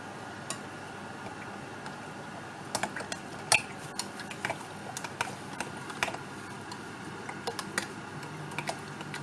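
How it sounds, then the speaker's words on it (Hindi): A spoon mixes yogurt with cooked aubergine in a bowl, giving soft, irregular scrapes and light clinks against the bowl over a quiet background. "अब इसको अच्छे से इसमें मिक्स करेंगे।"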